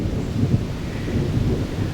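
Distant thunder rumbling low and continuous during a rainy day outdoors, loud and deep with soft rain texture throughout.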